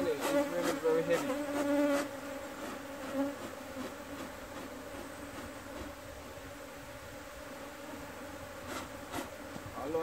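Honey bees buzz steadily around an opened hive during a frame inspection, a dense continuous drone that is louder in the first two seconds, with a few clicks and knocks from handling.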